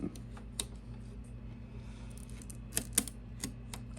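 Several crisp cutting slices through a sheet of model roof material, sharp clicking cuts spaced apart over a steady low hum, close and fairly quiet.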